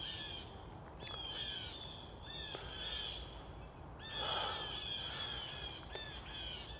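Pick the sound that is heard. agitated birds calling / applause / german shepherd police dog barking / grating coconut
agitated birds calling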